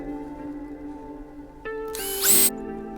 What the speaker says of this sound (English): just to mark off and pre-drill where each of those holes